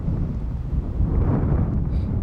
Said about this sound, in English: freezing windy day here by the railroad tracks